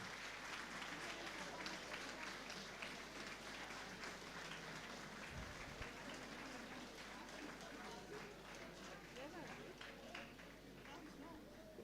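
An audience at a school Independence Day celebration claps for its teachers, giving steady, fairly faint applause throughout, with cheering voices mixed in.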